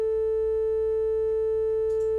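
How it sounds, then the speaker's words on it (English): Steady pure sine test tone played back from Audacity in a room without acoustic panels, one continuous loud tone held throughout with a faint hum beneath and a brief chirp near the end. "We're going to go ahead and fire off 3 test tones, see what it sounds like without the panels."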